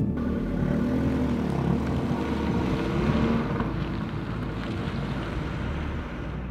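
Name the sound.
strong wind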